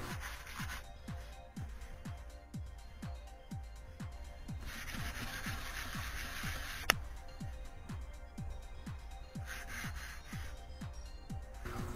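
Glazed putty on a 3D printed Darth Vader helmet is sanded by hand in steady back-and-forth strokes, a close, rhythmic rasping repeated roughly every half second, with one sharp click midway.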